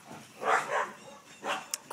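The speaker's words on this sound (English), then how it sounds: "my dog's fighting with the dog over across the street" Dog barking back at another dog across the street during a rainstorm, a few short barks and yips in bursts, moderately near, with faint background noise between them.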